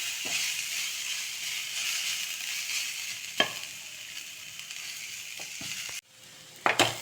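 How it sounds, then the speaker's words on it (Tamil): Capsicum and carrot sautéing in a pan, a continuous close sizzle broken by occasional spatula knocks and scrapes, then a sudden drop to quieter frying followed by a few more clatters. "கொஞ்சம் வதக்கிக்கலாம்."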